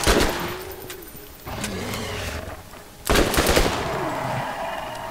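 Gunfire in Borderlands during a fight with skags, heard as loud bursts of rapid automatic shots at close range, with a pause between volleys and a heavy burst about midway, over game background noise and no talk.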